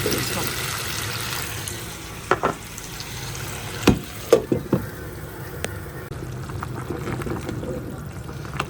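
Broth poured into a pan of frying fish curry with tomato and potato, a low bubbling sizzle with several sharp splashing bursts in the middle as liquid hits the pan, a voice heard faintly.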